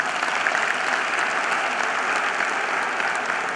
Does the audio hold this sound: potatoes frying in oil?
no